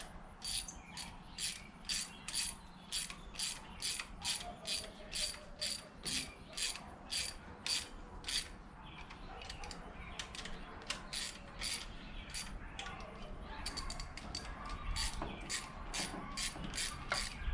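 A ratchet tightens intake manifold bolts on a 1987 GMC engine in a driveway, with rapid rhythmic clicking strokes in repeated bursts, close and fairly quiet.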